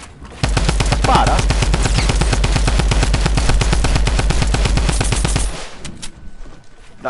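Sustained machine gun fire in a video game, a loud rapid evenly spaced stream of shots that runs for about five seconds and then stops, leaving quieter background noise.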